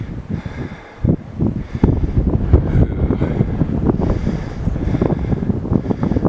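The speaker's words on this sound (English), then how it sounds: "Here's the wind. You guys feel it?" Wind gusting across an open ridge on a hike in West Kelowna, British Columbia, a steady rough rumble buffeting the microphone, swelling and easing in gusts with no voices.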